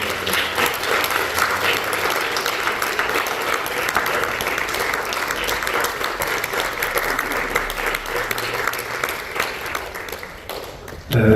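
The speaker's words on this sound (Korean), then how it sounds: "크게 박수해 주십시오" A large audience at a university's 30th-anniversary thanksgiving service and graduation ceremony claps loudly and continuously, a dense even wash of applause that holds for the full stretch and breaks off abruptly at the end.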